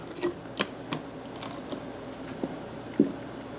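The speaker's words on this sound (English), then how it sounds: "Stir it in" Zero-sugar Italian sweet cream creamer is stirred into a cup of coffee, with a handful of sparse, soft spoon clinks and taps against the cup in a quiet room.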